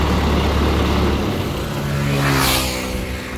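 Sonalika 60 tractor engine running loud and steady as the PTO gear is engaged, a continuous low mechanical drone with a brief rise in pitch midway, no talking.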